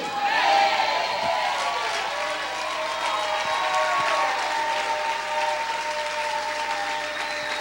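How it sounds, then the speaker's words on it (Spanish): Congregation in a church service shouting and applauding for the Lord, dense sustained clapping and cheering with voices mixed in, loud and continuous throughout. "¿Cuántos pueden gritar y aplaudir fuerte al Señor?"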